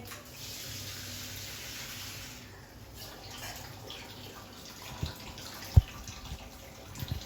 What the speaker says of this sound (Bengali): জলও দিয়ে দিলাম।